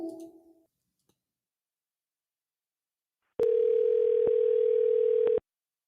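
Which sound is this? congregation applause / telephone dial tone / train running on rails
telephone dial tone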